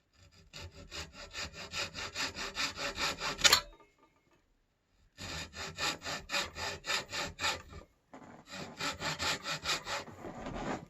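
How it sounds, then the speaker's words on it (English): Rasping strokes of sanding on a homemade wooden Fender-style guitar body, fast even scrubbing in three long bursts separated by short pauses, close and loud. "I'll just keep sanding back till I'm good"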